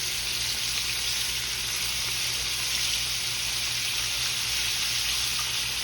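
Chicken frying in a skillet of hot oil for old-school 24-hour fried chicken, a steady, dense sizzle and crackle holding even and loud throughout with no talking.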